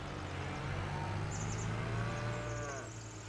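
Cattle in the Farming Simulator video game moo in several long, drawn-out calls over a steady, dense background hum of farm ambience, with no talking.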